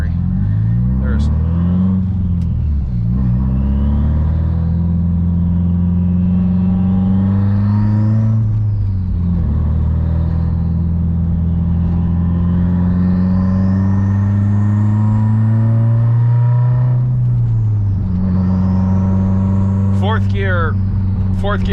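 A car engine drones loudly throughout, its pitch rising and dropping at intervals as gears change, with someone talking over it near the end.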